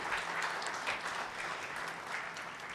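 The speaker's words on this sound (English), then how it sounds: "Ladies and gentlemen, please give a big round of applause for Mr." An audience at an awards ceremony in Phuket, Thailand claps steadily for a few seconds, a dense, moderately distant patter of many hands.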